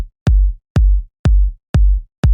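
A punchy electronic kick drum sample hits five times alone at a steady, even pace. Each hit has a sharp click and a deep, booming low tail.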